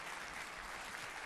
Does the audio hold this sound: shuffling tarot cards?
no